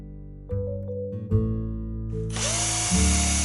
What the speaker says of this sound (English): So I'll just put this into my drill.